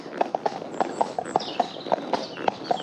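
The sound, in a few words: horse hooves clip-clopping on road during ride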